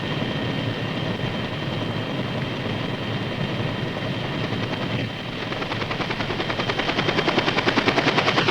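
Helicopters carrying personnel and equipment give a steady rotor roar, the rapid chopping pulse growing louder and more distinct toward the end as they approach.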